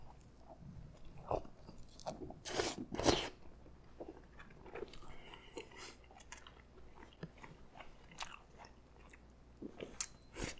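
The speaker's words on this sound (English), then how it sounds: "I guess I should try some of this cone, because that's the whole point." An ice cream cone dropped into hot spicy ramen gets bitten and chewed, giving several loud, crisp crunches up close, then softer, irregular chewing over a quiet background.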